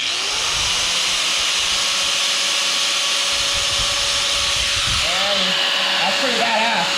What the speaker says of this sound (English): Okay, my grinder here, plug it right in.